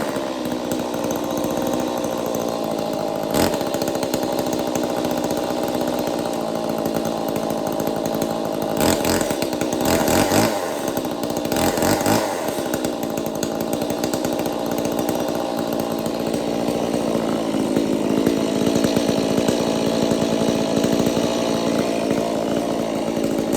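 A Stihl 019T chainsaw, freshly tuned after a fuel system overhaul, runs continuously and loudly up close, with a buzzing drone that surges and eases as the throttle rises and falls.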